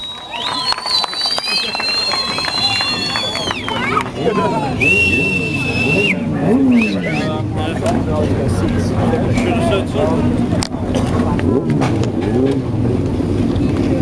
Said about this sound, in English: Fire them cars up and let's do this!